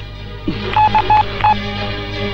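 A telephone number dialed on a keypad: four short, clear touch-tone beeps in quick succession, loud and near, over a low steady background hum.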